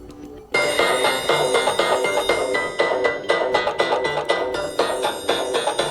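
An alarm ringtone plays on a Samsung Galaxy Tab S8. It starts suddenly and keeps going as a bright, steady melodic chime of repeating tones, loud and clear with no voices.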